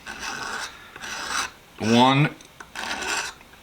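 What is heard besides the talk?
scraping a wooden hammer handle with a razor blade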